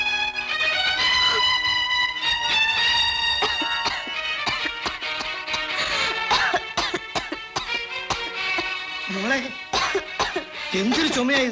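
A man in a Malayalam film drama, ill with chest pain, coughs in a repeated harsh, ragged fit, loud and close, with music playing underneath.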